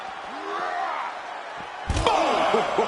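A heavy wrestler body slam impact in the video game WWE 2K25 lands suddenly partway through, followed by booming, echoing crowd-like noise, with game commentary-style talk beforehand.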